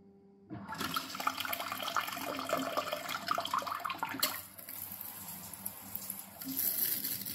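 A luxury one-piece intelligent toilet with an enema wash function sprays water in a steady, loud hiss. The jet shifts and weakens partway through, then rises again near the end.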